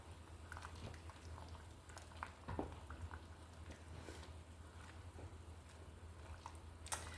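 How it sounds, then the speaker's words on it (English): Water boils in a pot where jars are being sterilized, a steady low bubbling rumble with scattered soft pops and clicks, fairly quiet and continuous throughout. "So in this pot beside me, I have my jars sterilizing."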